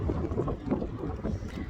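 Wind buffeting a microphone outdoors on a blustery day in town, low rumbling gusts that swell and fade in uneven pulses, close and constant with no speech.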